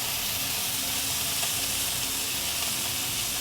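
Pork stir-fries with oyster sauce in a hot pan, making a loud, dense, continuous sizzle and hiss throughout with no talking.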